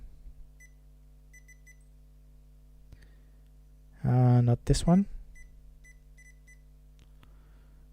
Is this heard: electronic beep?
yes